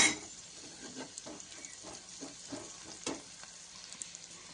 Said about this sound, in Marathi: गॅस कमी ठेवून मसाला छान परतून घेऊया.